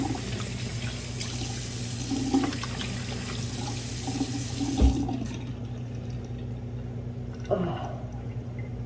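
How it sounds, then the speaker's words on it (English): Tap water runs steadily from a faucet into a sink for a face wash, a continuous close wash of water with a few brief splashes and clatters near the middle and end. "So I'm gonna wash my face with this little mask."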